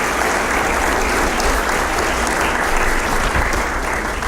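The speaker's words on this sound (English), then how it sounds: "So can we just give everybody a round of applause for that?" Steady, dense applause from the audience at a Coronation Ball for the Windsor Shad Derby, honoring the Junior Women's Club crew who organized the evening, loud and continuous throughout.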